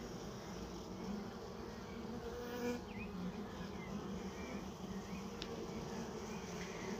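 Honeybees swarm around a caged queen, a certified Ligustica, as it is set into an apiary hive. They make a dense, steady, close buzz throughout, with no talk.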